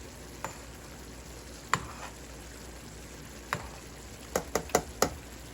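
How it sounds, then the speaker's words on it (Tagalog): Spaghetti sauce with beef meatballs simmering in a pan, a steady soft sizzle under several sharp knocks and scrapes of a utensil stirring it, clustered toward the end. "Halu-haluin natin."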